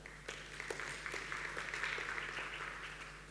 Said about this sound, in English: Round of applause if you've ever worked at a large company.